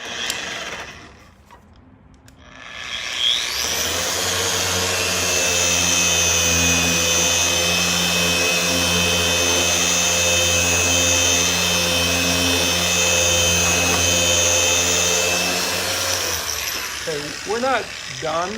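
A Flex XFE 7-12 80 dual-action polisher winds up to maximum speed, about 5,500 RPM, and holds a loud, steady whirring drone with a high whine, close by, after a brief quiet start.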